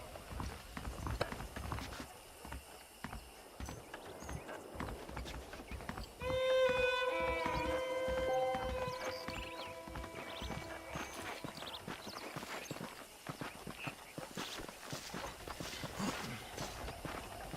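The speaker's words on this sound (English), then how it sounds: "The horses are saddled up over here." Horses' hooves clip-clop steadily on hard ground in a video game (Red Dead Redemption) alongside scattered footsteps and faint background rumble, with a rising musical tone swelling partway through.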